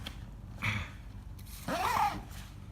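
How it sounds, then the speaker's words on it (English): A travel bag being zipped shut, heard as two brief rasping zip strokes, the second longer and louder, close by with no talking. "Close this bag all the way up."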